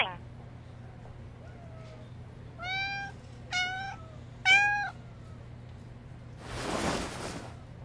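A cat in the game Love and Deepspace gives several short meows, three clear ones in a row, close and moderate in volume over a low steady hum, followed by a burst of noise.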